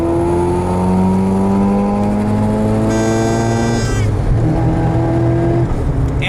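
A Mazda FC RX-7 engine revs high and loud toward 8,000 RPM, its pitch climbing through several sharp rises and drops, with a brief shift midway.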